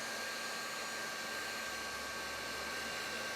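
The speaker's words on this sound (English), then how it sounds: "we're going to give it a shot with the heat tool." A heat tool blows hot air steadily onto wet paint in a faux batik craft technique, producing a constant close whirring hiss with a faint electric hum and no speech.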